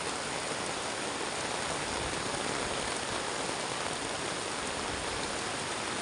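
Heavy rain pours steadily over a deserted market with its eateries empty, a dense unbroken hiss of downpour that fills the whole stretch evenly with no voices and no passing motorbikes.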